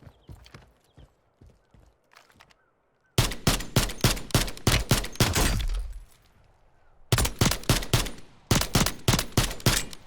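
Gunfire in the video game Warzone 3 comes in quick, regular bursts of sharp shots, with a quieter stretch of scattered clicks and steps between two loud volleys.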